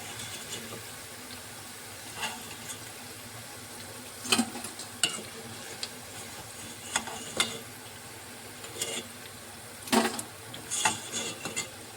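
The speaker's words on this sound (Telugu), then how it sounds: "ఇదిగోండి మన పకోడీ అయితే వేగిపోతుంది" Bitter gourd pakoda frying in hot oil, a steady low sizzle with occasional sharper crackles and pops standing out, close and moderately loud, no talking.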